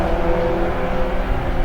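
Racing Volkswagens in a three-class field run together on a circuit, giving a dense, continuous engine drone. The sound is loud and close, with no talk.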